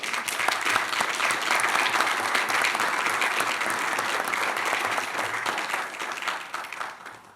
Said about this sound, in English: can we get a round of applause for our Place 5 candidates?